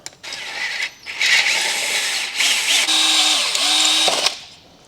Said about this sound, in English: I'm just drilling them out